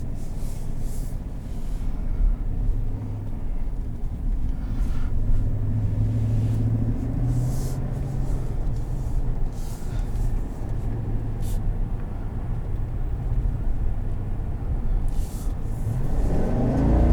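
A 2021 Chevrolet Silverado 1500 High Country with a 6.2L V8 accelerating, heard from inside the cab as a continuous low engine rumble with tones that rise and fall, steady and moderately loud without talk.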